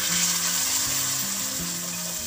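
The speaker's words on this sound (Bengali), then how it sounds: "এবার এর মধ্যে যে মশলাটাকে ব্লেন্ড করে রেখেছি সেটা ঢেলে দিচ্ছি" A blended spice paste hits hot oil in a pan while cooking a coconut kofta curry, giving a steady, close, loud sizzle of frying with soft stirring scrapes, no voices.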